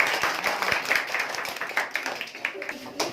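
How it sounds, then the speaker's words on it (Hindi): A group of students at an origami workshop claps, with uneven, scattered hand claps close by mixed in with voices talking. "अब ताली बजाओ"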